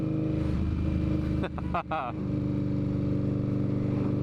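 An Indian motorcycle fitted with decatted 2-into-1 high pipes rumbles steadily and loudly during a ride, its deep engine drone briefly dipping and revving as the throttle changes.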